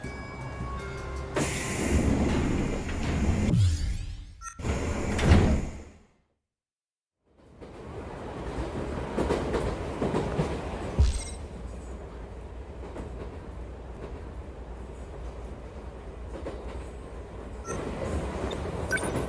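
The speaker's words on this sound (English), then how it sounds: "Looks like my train's here." Train from the video game 13 Sentinels: Aegis Rim pulling into a station and running, with a steady rumbling roll and rail clatter, a brief whoosh, a short silent gap, then the continuous carriage noise resuming.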